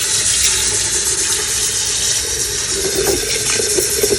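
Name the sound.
water poured into pot of meat for pozol rojo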